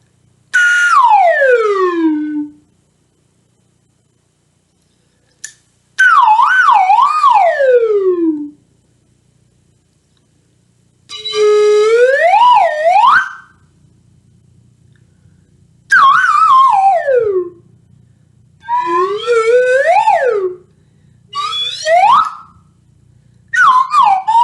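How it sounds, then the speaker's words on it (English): A slide whistle is played in a music lesson, with loud swooping glides rising and falling in pitch, grouped into about seven separate phrases with short silences between them and no talking. "Let's start out today's music lesson with a little bit of slide whistle."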